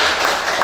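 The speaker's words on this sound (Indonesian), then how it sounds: "tepuk tangan untuk Lutfi" Classroom applause for a student named Lutfi, a short, steady wash of many hands clapping at close range, loud and continuous.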